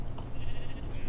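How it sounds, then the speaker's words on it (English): Sheep bleating in Minecraft, a short nasal bleat near the start over a coarse, noisy background that stays level for the rest of the moment. "Sheep!"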